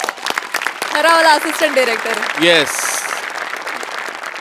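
Applause from a studio audience at a Marathi comedy show swells beneath a voice, which dominates the short stretch.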